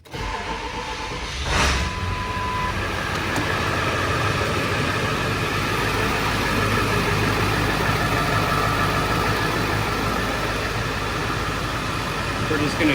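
A 7.3 Powerstroke diesel farm truck engine idles steadily and close, a continuous rumble under a brief sharp click near the start.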